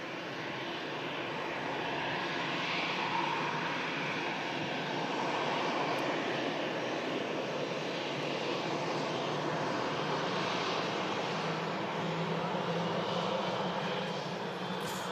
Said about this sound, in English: The Istanbul A321neo is just on approach now.